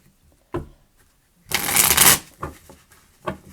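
A deck of cards being shuffled for a card reading, a loud riffle burst lasting about half a second, framed by a few softer taps and card handling sounds before and after.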